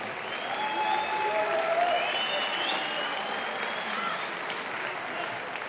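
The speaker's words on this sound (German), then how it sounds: "Beide Kämpfer und auch der Ringrichter einen ordentlichen Applaus verdient." A boxing event crowd applauds both fighters and the referee, a broad continuous roar of clapping heard from a distance, with an announcer's voice talking over it.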